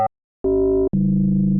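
Synthesizer patch built for atonal horror atmosphere, giving a sustained metallic ringing-bowl tone: a short blip, then two steady held tones, the second lower and slightly wavering, loud and clean with no voices.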